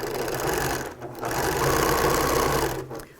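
A sewing machine runs steadily along a T-shirt quilt seam, close and loud, with a brief pause near the start and another near the end.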